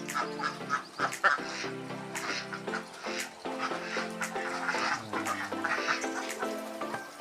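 Ducks quacking on a duck farm, a dense flock giving overlapping nasal quacks and honks in uneven bursts, fairly close and continuous throughout.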